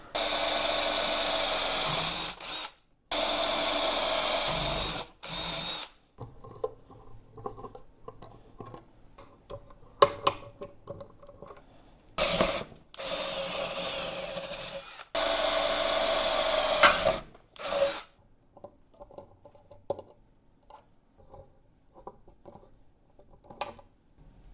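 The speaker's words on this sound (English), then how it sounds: "Now to drill some more holes." Power drill boring holes through a metal plate for a 1987-96 Dodge Dakota manual brake conversion, coming in several loud sustained bursts broken by short pauses with scattered clicks and rustling handling noise between, close up and with no speech.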